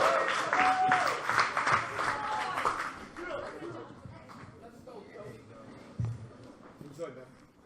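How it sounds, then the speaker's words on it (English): Poetry slam audience at a Bronx youth event applauds and cheers for a poet, loud dense clapping that thins out over several seconds, with scattered voices and chatter underneath. "And keep clapping as we bring Joey to the microphone"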